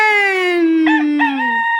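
Fowl call, a single loud, close, drawn-out crowing cry with a falling tone and a couple of break-like catches near the end, heard alone.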